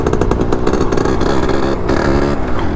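A Yamaha RX 100 two-stroke motorcycle engine runs close and loud, giving off a rapid, rattling burble with slight rises in revs.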